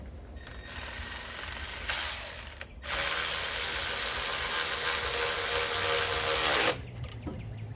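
A ratchet drives a 10mm bolt into a bracket on the valve cover of a Honda Civic during alternator replacement. It produces long, dense runs of rapid clicking in a couple of sustained bursts, close and loud, with no speech.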